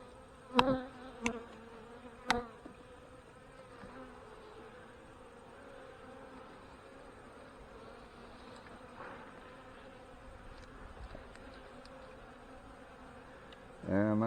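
Honey bees drone in a low, continuous buzz during an inspection of an open hive, with a few sharp knocks early on and near the end; a voice is faintly present.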